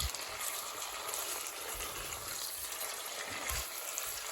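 Diced lamb browning in a pan with onions for a slow-cook lamb curry, giving a steady, fairly quiet frying sizzle with faint stirring and scraping throughout.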